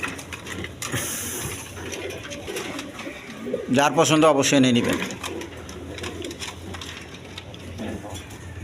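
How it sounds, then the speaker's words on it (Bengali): Indian Bombay pigeons coo in a loft full of birds, soft rolling calls rising mid-clip under someone talking nearby, with light clatter in the background. "দেখেন এখানে ইন্ডিয়ান বোম্বাই কবুতর আছে"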